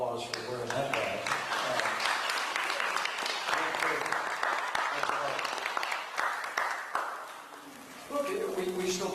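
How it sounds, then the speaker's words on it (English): Audience applause for a police officer at a live event, dense clapping filling the room steadily for about eight seconds before thinning out, with some voices and cheers mixed in. "You give her a round of applause for wearing that badge."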